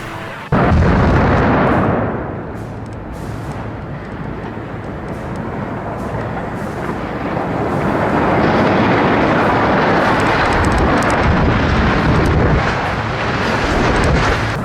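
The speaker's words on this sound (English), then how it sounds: "All three stacks came down at the exact same time, like perfectly synced destruction. One huge boom, and they're gone." A demolition blast brings down three stacks at once: a sudden heavy boom opens into a loud, sustained roaring rumble of collapse that continues to the end.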